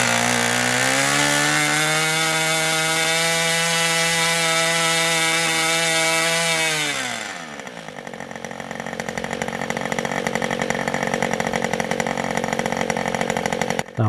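A 2-cycle nitro RC airplane engine screams at a steady high pitch, then winds down over about a second and settles into a buzzing, rattly idle up close.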